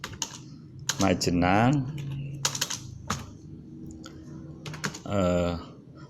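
Keys clatter on a computer keyboard in short bursts between stretches of a voice talking, close and moderately loud.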